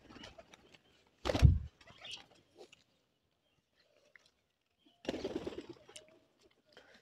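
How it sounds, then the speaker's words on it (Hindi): Two soft bursts of a pigeon cooing and fluttering close by, separated by quiet with faint scattered rustles. "तो ये अभी हमारा कबूतर है"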